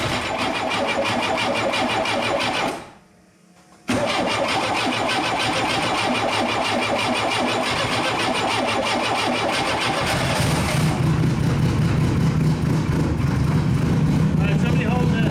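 A race car being prepped for an endurance race cranks over and fires, its mid-pitched engine catching and settling into a loud, steady idle with a brief drop before the start, voices talking nearby.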